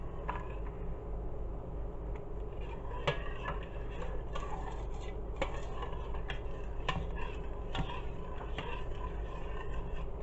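A spoon stirs a mixture in a bowl set in an ice bath, with faint, irregular scraping and light ticking against the bowl, close and fairly quiet.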